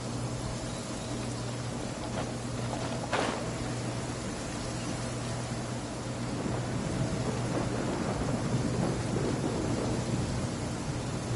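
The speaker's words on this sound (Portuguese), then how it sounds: "Mó chuva, velho." Steady rain with low rumbling roll through a stormy scene in Genshin Impact, with a brief sharper crack near the three-second mark, continuous and fairly full throughout with no voices.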